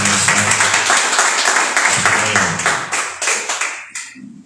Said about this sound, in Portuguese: As palmas louvam o Senhor Jesus Cristo, essa mensagem.